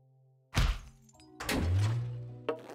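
A heavy main power switch for a building's second floor is thrown in a point-and-click adventure game, giving a loud clunk followed by a low descending electrical hum as the lights die, then a second sharp knock.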